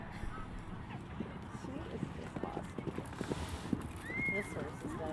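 A horse at a speed event gallops with rapid, rhythmic hoofbeats on arena ground, heard at moderate distance, with speech in the background.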